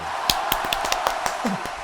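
A small audience claps at a Korean fortune-telling session on the new year's zodiac outlook: about eight sharp, separate claps in a loose rhythm, fairly faint over a hissy room background.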